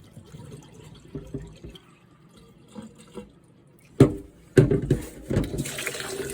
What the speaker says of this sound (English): And now I'm going to drain it out.